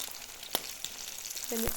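Pork chops coated in flour and egg fry in a pan with a steady close sizzle, broken by a couple of sharp pops and a brief scrape.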